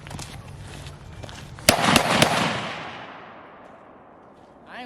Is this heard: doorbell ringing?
no